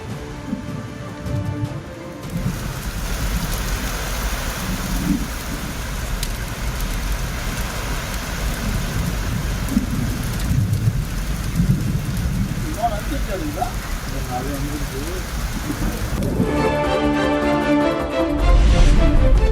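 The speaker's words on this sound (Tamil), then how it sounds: "சென்னையின் புறநகர் பகுதிகளான கிளாம்பாக்கம், ஊரப்பாக்கம் பகுதிகளில் கனமழை." Heavy rain pours steadily in the suburbs of Chennai at Kilambakkam and Urapakkam, with thunder rumbling through a dense, loud wash of falling water for the whole stretch.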